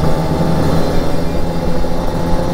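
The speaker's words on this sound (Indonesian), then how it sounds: "Wih, kencang kali truk ini." A fast truck on a busy road roars past, a loud, steady engine and wind rumble heard up close with no talking.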